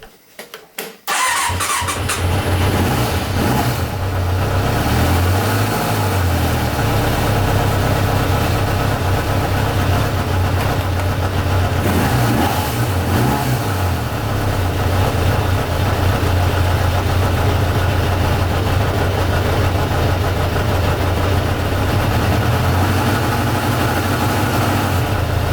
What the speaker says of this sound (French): Le ralenti est un peu hésitant et bas puisque je n'ai pas utilisé le starter jusqu'à présent.